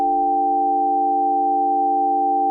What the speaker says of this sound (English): what is the most basic sound that we can make with a computer? That would be like the sine wave.